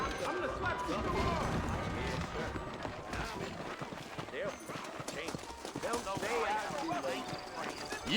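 Horses gallop in the Red Dead Redemption Wild West game, with a steady, loud patter of hooves running throughout amid dense game noise.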